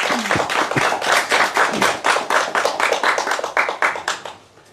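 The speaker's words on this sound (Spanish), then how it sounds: "Un aplauso para nuestra autora." An audience applauds an author at a book presentation: close, brisk hand clapping with distinct individual claps in a rapid rhythm, fairly loud for about four seconds before tapering off, with a brief voice at the start.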